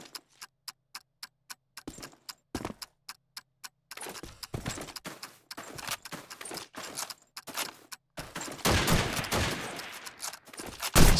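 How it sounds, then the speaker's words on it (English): Luger pistol fire in Call of Duty 2 during a competitive multiplayer match: a steady series of sharp, evenly spaced shots, then busier bursts of gunfire and explosions from other weapons building into a loud, dense close. "gets a second tag onto Snaker, gets shot by the last bullet of that Luger"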